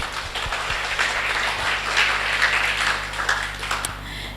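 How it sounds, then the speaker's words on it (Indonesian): Audience applause after a talk on science and Dharma at a Buddhist centre, a sustained wash of clapping at moderate level with a low steady hum beneath, no voices over it. "Boleh tepuk tangan sekali lagi?"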